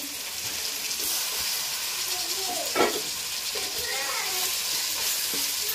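Tomatoes dropped into hot oil, a steady broadband sizzle with scraping stirring and a brief louder burst near the middle, close and continuous with no talking.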